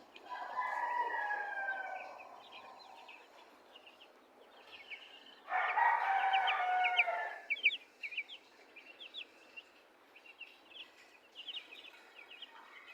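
Broiler chicks about eleven days old, a group of around a hundred under heat lamps, chirp in a steady stream of high, thin peeps, with a louder burst midway and someone talking quietly at times.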